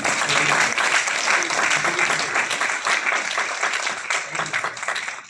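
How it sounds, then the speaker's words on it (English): An audience at a lecture breaks into steady, dense applause, many hands clapping together for several seconds before it begins to thin out. "give a big round of applause"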